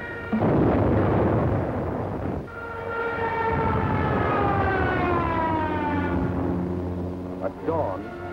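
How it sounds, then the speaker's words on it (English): German aerial bombing raid on Yugoslavia at dawn, with a long wailing air-raid siren over loud, continuous rumbling blasts and roar, partly muffled by a narrator's voice. "German bombs told the Yugoslavians they were at war with Germany"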